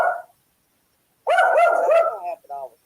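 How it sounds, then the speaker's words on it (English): A dog gives a burst of rapid, close barks and yaps, loud and insistent, trailing into a couple of shorter yips, after a brief sound at the start and a second of silence. "Dog barking, I can't hear you at all."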